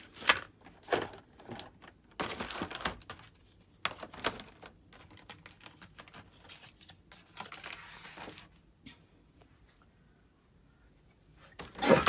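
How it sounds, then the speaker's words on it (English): Several hard metallic clacks and knocks as spray paint cans are set down one after another at an irregular pace, close by, in an otherwise quiet craft room. "you can probably hear what this is as I'm putting it down. These are my spray paints"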